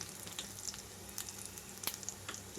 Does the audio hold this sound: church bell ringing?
no